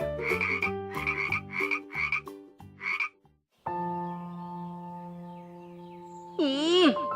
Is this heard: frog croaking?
yes